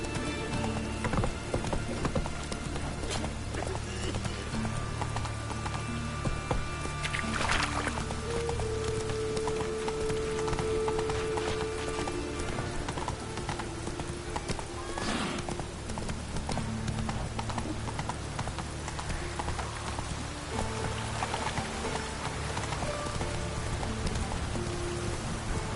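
Roach, the horse in The Witcher 3, clip-clops at a steady walking rhythm with rain pattering all around, moderately close and continuous, with a brief whinny-like tone partway through.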